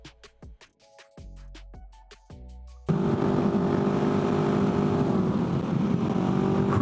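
A Can-Am Ryker fitted with an RLS exhaust, heard first as a few short throttle blips and revs, then a loud steady engine drone with wind and road roar while riding.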